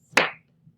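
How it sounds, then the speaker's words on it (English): A single sharp hand clap rings out alone and close, followed by a much fainter second tap, part of a steady-beat clapping exercise in a kindergarten music lesson. "Let's try clapping again."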